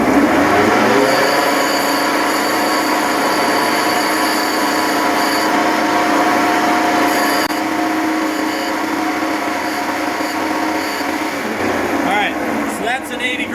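A coarse diamond grinding wheel cuts a large Ethiopian opal, producing a loud, continuous whirring grind with a steady motor hum throughout, close and unbroken, shifting slightly near the end as the stone is handled.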